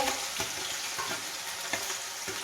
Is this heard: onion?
yes